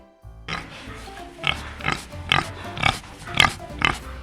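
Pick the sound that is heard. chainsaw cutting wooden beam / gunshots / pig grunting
pig grunting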